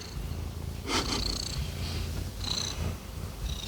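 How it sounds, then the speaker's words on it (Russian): A domestic cat purrs loudly and close by in a steady, continuous rumble, with a few brief soft rustles or breaths over it and no talking. "когда они маленькие, они так громко мурлычат"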